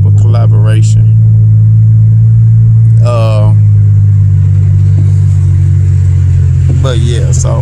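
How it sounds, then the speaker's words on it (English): Chevrolet Impala engine idling with a steady deep rumble, loud and close, broken by a few brief revving bursts and voices. "go ahead and get that Impala running"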